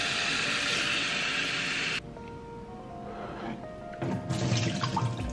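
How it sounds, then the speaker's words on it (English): Warm water runs from a kitchen tap in a steady, loud stream that cuts off abruptly midway, followed by quieter clinks and handling before the flow gushes again near the end. "Then we're gonna add a little more warm water."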